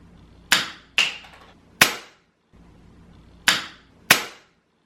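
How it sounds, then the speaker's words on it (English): A Gatorade bottle cap is dropped onto a hardwood floor several times, giving five sharp, close plastic clicks with short bounces, spaced roughly half a second to a second apart, with quiet gaps between. "the cap from the Gatorade bottle. Same distance, same height, onto a hardwood floor."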